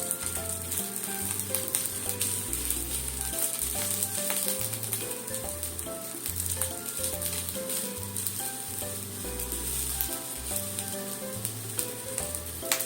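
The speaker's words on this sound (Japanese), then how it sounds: "焼き色がつくようにね、焦げ色がつくようにちょっと焼きますね" Green onion and fried tofu (aburaage) searing in a pan make a quiet, steady sizzle that runs the whole time, with soft background music behind it and no talking.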